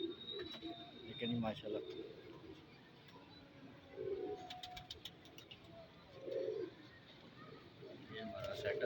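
Pigeons coo in soft, repeated low bursts while someone talks briefly at the start, with occasional chirps in the background.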